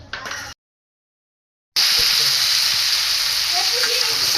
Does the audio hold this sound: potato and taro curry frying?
yes